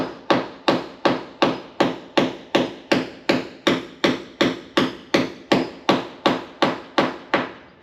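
Steady, evenly spaced hammer blows, about two per second, loud and close, continuing without pause for several seconds.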